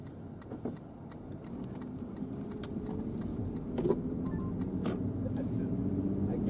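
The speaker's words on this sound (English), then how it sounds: "I got a car coming the other way." A car passes on a West Texas road during a hail and lightning storm, a steady low road rumble with a brief swell as it goes by, under an ongoing semi's noise and talk.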